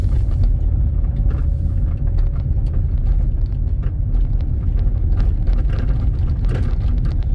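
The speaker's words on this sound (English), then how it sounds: "what's cool is it has us going down this gravel road." A car rolls steadily down a gravel road through state game lands, a constant loud low rumble of tires and engine with faint crunching ticks throughout.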